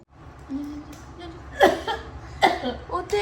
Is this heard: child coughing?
yes